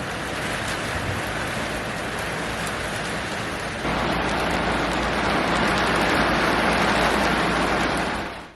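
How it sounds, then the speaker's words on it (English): Steady heavy rain pours down around a catamaran moored in Malta during a winter refit, a dense continuous hiss that swells louder partway through, with wind and no voices. "the next few days brought nothing but wind and rain"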